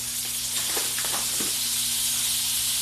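Butter melts and sizzles in a pan as the base for a from-scratch potato soup, a steady close hiss broken by a few faint pops and crackles.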